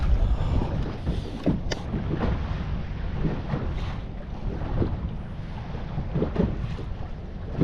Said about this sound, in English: This wind is just insane right now.